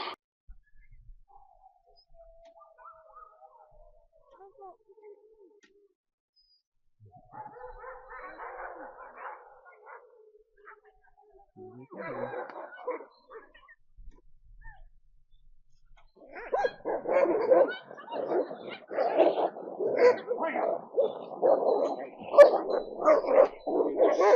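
Sled dogs at the Denali kennels bark in a rising chorus, starting with scattered distant yips and calls, then swelling into dense, loud, continuous barking from many dogs nearby, with brief talk early on.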